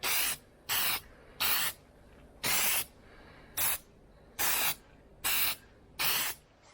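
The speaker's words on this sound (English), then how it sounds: "I'm just going to spray a little there." Plasti Dip aerosol can spraying a coat onto a bow-tie emblem of a 2018 Chevrolet Colorado truck, eight distinct hissing bursts of about half a second each, close and loud, separated by short pauses, with no talking.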